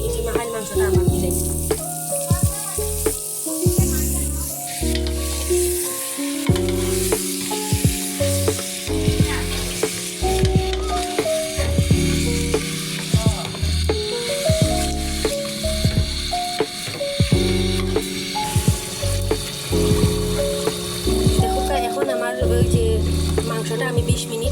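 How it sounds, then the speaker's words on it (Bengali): Marinated beef sizzles in a pot of fried spices, a constant loud bubbling and hissing with scraping stirs breaking through now and then. "মাংসটা আমি 20 মিনিট সিদ্ধ করছি আর মাঝে মাঝে লাড়িয়ে দিছি।"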